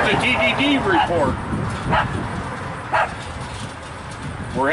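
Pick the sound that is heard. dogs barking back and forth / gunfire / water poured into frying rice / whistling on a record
dogs barking back and forth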